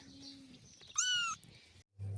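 A single short cat meow, nearby and fairly clear, rising then falling, set against a quiet room with faint background noise.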